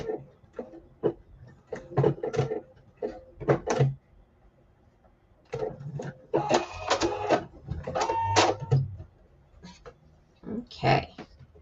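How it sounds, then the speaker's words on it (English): A sewing machine stitches a tiny hat on a Santa-themed snack mat in short stop-start whirring bursts of mechanical chatter, close and fairly loud. A voice talks between some of the bursts. "I just have to sew the tiny bit of his hat right there between his little eyebrows"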